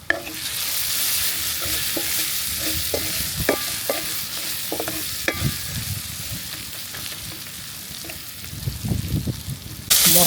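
Spiced masala for a Bihari-style egg curry frying in a pan in a village kitchen, with a steady sizzle and repeated scraping stir strokes. The loudness stays fairly even and no one speaks.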